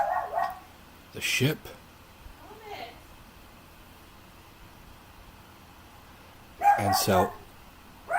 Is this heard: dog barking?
yes